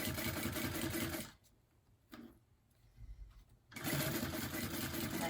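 A sewing machine stitches purse gussets right along the binding edge, a loud, close, rapid run that stops for a couple of seconds of quiet with a few light clicks, then starts up again at full speed.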